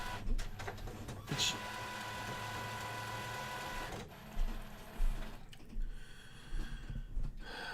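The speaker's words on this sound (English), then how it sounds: "Let me turn the stupid printer on real quick." An office printer powers on and runs its startup cycle, with whirring motor tones, clicks and mechanical clunks in irregular bursts, close by in a quiet room.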